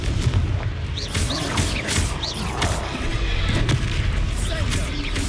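Confringo spell explosions in the video game Hogwarts Legacy, repeated booming blasts and fiery bursts amid ongoing combat effects, loud and close, with voices speaking over them.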